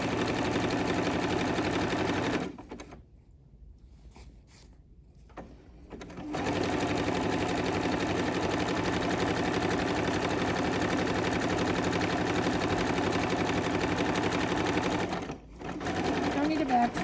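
A sewing machine runs a zigzag stitch along a seam edge, a steady close mechanical whirring that stops briefly for a few seconds midway, then resumes and carries on continuously to the end.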